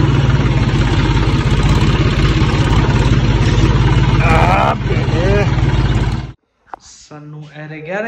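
A tractor engine runs with a loud, steady, low throbbing rumble for about six seconds, then cuts off abruptly, and voices follow.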